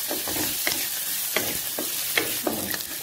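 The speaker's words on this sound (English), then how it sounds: "I'm also adding in some curry leaves. I'm using fresh curry leaves today." Fresh curry leaves frying in hot oil with a steady crackling sizzle, broken by soft intermittent stirring scrapes in a pan of Malaysian-style vegetable kurma, heard up close with no voices.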